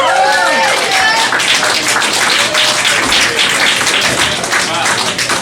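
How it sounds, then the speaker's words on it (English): A comedy club audience in Richmond gives a comedian a big round of applause, a dense, loud, continuous wash of clapping, with a voice over the start. "Let's have a big round of applause for Joe Hafke."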